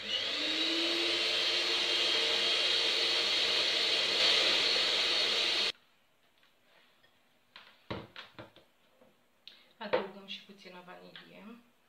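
An electric mixer beating cream in a bowl whirs with a steady, loud, high-pitched drone for several seconds, then cuts off, leaving quiet clinks and handling noises followed by someone talking.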